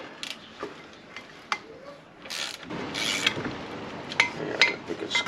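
A wrench turns the wheel studs on a car wheel hub during an ARP wheel stud install on an FRS: scattered metallic ratcheting clicks and scrapes, close and intermittent, with some rustling between.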